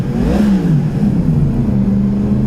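Yamaha MT-10 SP motorcycle with a four-cylinder engine and Akrapovic exhaust revs loudly and close, the engine note swelling up and then easing back into a steady, throaty hum.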